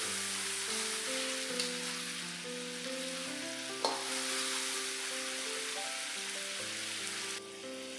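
Sliced leeks fry in a hot pan with a steady, bright sizzle, occasional stirring clicks and scrapes breaking through while soft music plays underneath.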